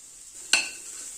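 One quick spoon stroke mixes bori powder into spinach curry in a pan with potato and cauliflower, a short sizzling scrape against a steady hiss of frying.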